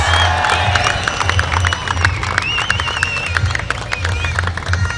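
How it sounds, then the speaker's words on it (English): A crowd at a cricket match presentation, the Royal Thomian limited-over encounter, applauds and cheers for the two teams, with loud mixed clapping, shouts and whistles over a low rumbling background. "can we have a good round of applause for the two"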